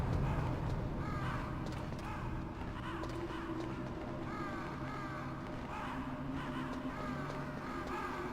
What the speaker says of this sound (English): Why can I hear crows?